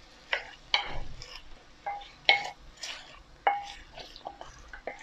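A utensil scrapes and taps in a pan of softened onion and tomato, giving short, separate strokes at an irregular pace with a faint sizzle between them.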